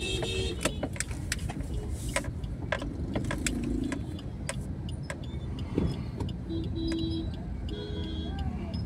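A car driving through the busy Mangaon market area in Konkan, turning left toward Khed and Chiplun, with steady road and engine noise, passing traffic and scattered clicks and rattles throughout.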